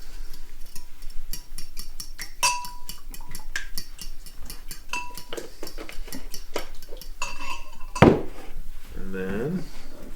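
Egg and milk batter whisked in a bowl, a quick run of rapid clicking strokes followed by clatter and knocks of kitchen utensils.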